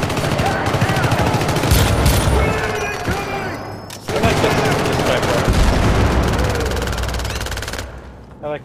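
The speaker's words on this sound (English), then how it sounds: "The sniper rifle. Shot." Shooting in the co-op game Syndicate, with a sniper rifle among the weapons: continuous loud automatic fire and heavy reports dominate, broken by a brief lull before the barrage resumes, with voices faintly mixed in.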